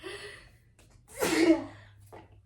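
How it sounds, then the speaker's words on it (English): A single sharp sneeze bursts out after a quiet breathy lead-in, close and fairly loud, followed by a brief exhale. "sneeze coming"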